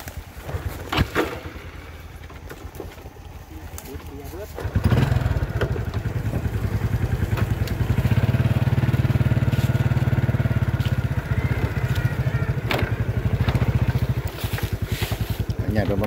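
A motorcycle engine drones while riding along, starting lighter and then settling into a loud, steady hum with wind buffeting from about five seconds on, and no clear speech.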